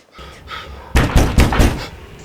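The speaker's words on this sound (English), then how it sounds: "I hear a knocking in the south entry." Knocking at a door in a Shakespeare film scene, several loud, hard raps in a quick sequence of about four blows standing out against quiet room ambience.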